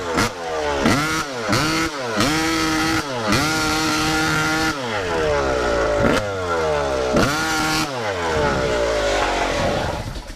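A Yamaha YZ250 two-stroke dirt bike engine is held at full throttle, climbing in repeated rising revs with brief drops between shifts, loud and close, with no talk over it.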